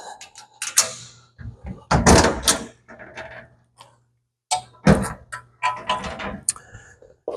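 Metal access door on a Cantek CN600 CNC dovetailer latching shut with clunks and clicks at intervals, mixed with someone talking nearby.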